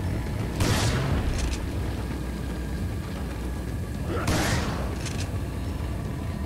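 Two heavy booming explosions in the video game Resident Evil 4 sound over a constant low rumble of background game noise, the blasts spaced a few seconds apart.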